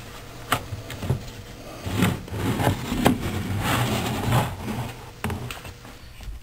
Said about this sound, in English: Using a utility knife to cut the label to remove the housing cover.